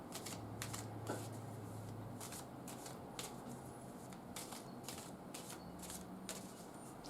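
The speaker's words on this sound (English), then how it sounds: "A few more shuffles." A deck of tarot cards being shuffled by hand, a run of crisp riffling bursts repeating in irregular rhythm, close and fairly quiet against a low background hum.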